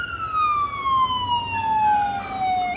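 Two ambulance sirens pass along Ocean Parkway in New York City, a loud wailing tone sliding steadily downward as they go by over street noise.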